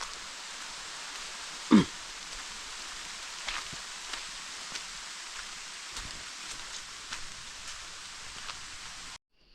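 Steady rain hisses evenly throughout, with scattered drops tapping and one sharper knock near the start.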